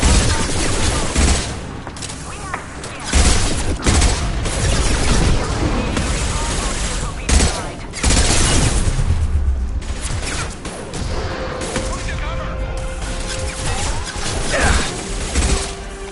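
Krogan gunfire in Mass Effect 2 comes as a dense barrage of loud, overlapping shots and crashing impacts over about sixteen seconds, mixed with battle noise and a brief spoken line.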